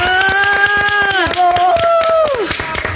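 A studio audience claps on a late-night talk show to welcome a guest, with a steady run of sharp claps under loud music and a voice.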